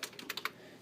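Keystrokes on a computer keyboard while coding a rolling ball game, a handful of quick clicks in the first half second, close and fairly quiet, then fading to room hush.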